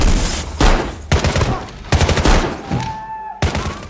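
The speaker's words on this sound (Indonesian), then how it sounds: "baku tembak pun tak bisa dihindari lagi" Gunfight from a film about a senior officer avenging a friend killed by corrupt police: loud, close bursts of gunfire in rapid clusters, sharp cracks with short gaps between volleys.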